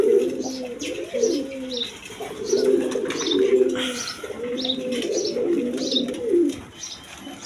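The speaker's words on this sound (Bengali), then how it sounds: "এক পেয়ার গিরিবাস কবুতর আছে হাই ফ্লাইং গিরিবাস কবুতর" High-flying Giribaz pigeons coo in a steady series of low, rolling calls close by, with faint higher chirps and a busy background around them.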